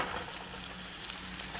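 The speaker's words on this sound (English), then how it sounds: "we'll continue to saute this up" Food sautéing in a pan as part of bone-in stuffed chops, giving a steady, close sizzle with a soft hiss and light stirring texture and no talking.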